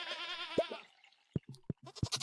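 Goats in a video game bleat in a long wavering cry up close, followed by a few short clipped sounds and a quick burst of higher, shakier bleats at the end.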